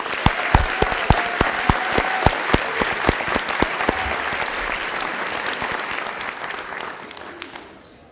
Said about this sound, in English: Can we give a final round of applause for the graduates from the Department of Education Leadership?